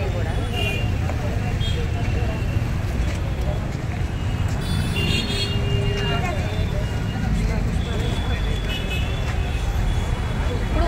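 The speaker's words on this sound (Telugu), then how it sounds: "ట్రాఫిక్ అయితే ఫుల్ ట్రాఫిక్ అయిపోయింది." Heavy road traffic outside a movie theatre showing Pushpa 2, with buses, cars and motorbikes rumbling continuously and horns tooting now and then, while people talk over the din throughout.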